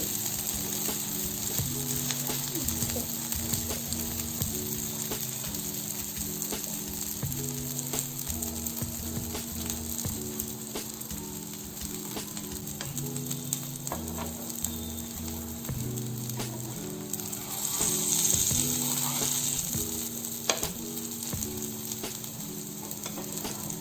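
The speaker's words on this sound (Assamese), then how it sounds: "এফালে ব্ৰাউন হৈছে এফালে আৰু আনফালেও আমি ব্ৰাউন হোৱাকে ফ্ৰাই কৰিম" Rajma kidney bean cutlets fry in oil, giving a steady close sizzle and crackle that runs throughout, with a tonal hum in the background.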